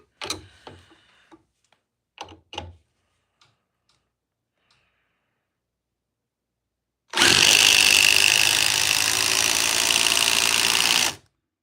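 A Surge Gen 2 impact driver set to speed 3 gives a few clicks and knocks, then runs for about four seconds as a loud, steady, close whine with rapid hammering that stops abruptly.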